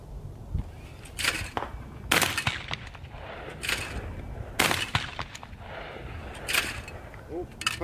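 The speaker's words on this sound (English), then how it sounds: "But we're gonna shoot a couple more clays" A Beretta A300 Ultima semi-automatic shotgun fires at clay targets on an outdoor range, with six or so sharp, loud reports spaced a second or more apart.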